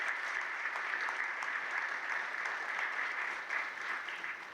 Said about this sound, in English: Let's give them another big round of applause to all of the young people who are graduating today.